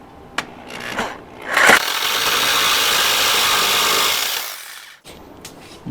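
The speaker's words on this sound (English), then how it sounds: "So he's making a test cut right now." Power saw makes a test cut in wood while building a console top for a 1970 E-body Mopar: a couple of sharp knocks, then the motor spins up and rips steadily for about three seconds before winding down.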